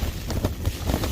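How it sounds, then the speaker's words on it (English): Wind gusts on an open hillside at a wild camp in the Lake District, a short burst of rough, blustery buffeting noise against the microphone. "Definitely fairly breezy."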